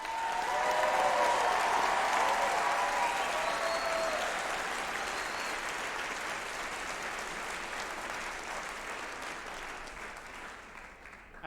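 Sustained applause from a large audience at a 2019 Folsom Lake College commencement, loud at the start and gradually thinning over about eleven seconds, with faint crowd voices mixed in.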